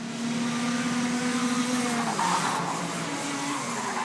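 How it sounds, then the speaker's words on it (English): Go-kart engines revving as karts race around a track: a continuous high buzzing engine whine, with pitch sliding and tire squeal, loud and close, without any talk. "Engines are revving and drivers are zooming down the track."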